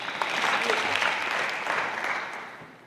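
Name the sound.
applause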